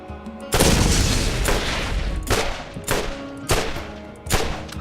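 Tediore gun firing in Borderlands 1: a sustained burst of loud gunfire followed by four separate heavy shots at roughly regular intervals, each with a short decaying tail, close and without speech.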